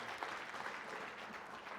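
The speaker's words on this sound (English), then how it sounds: "So let's clap it up for that again." Faint, steady applause from an audience at a company regional meeting, a dense wash of clapping heard from a distance with no clear individual claps.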